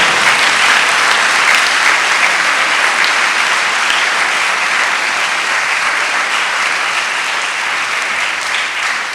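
Sustained loud congregation applause at a Sunday Mass for the Feast of Christ the King, a dense, steady wash of many hands clapping, with no pauses and no voices over it.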